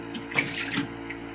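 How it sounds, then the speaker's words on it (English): A Naniwa Snow White 8000 grit whetstone is lowered into water to soak, giving a soft close splash and trickling swirl over a steady watery hiss. "I forgot to put my 8000 grit stone in the water, so let me just stop and do that real quick."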